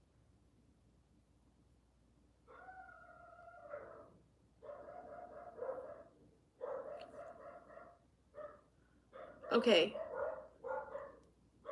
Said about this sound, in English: I have to go see what my dogs are barking about.